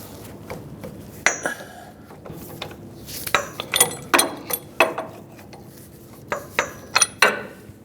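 Metallic clicking and clinking of a wrench working a reverse-threaded tie rod jam nut on a Ram 2500 pickup, close by, in scattered short bursts with brief ratcheting clusters and pauses between.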